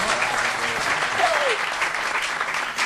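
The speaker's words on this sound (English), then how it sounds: "Round of applause." Comedy club audience in Edinburgh gives a round of applause, a steady wash of clapping that holds for a few seconds with a voice briefly over it.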